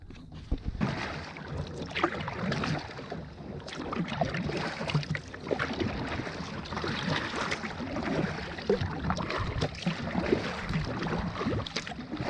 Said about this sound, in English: I'm going to paddle out now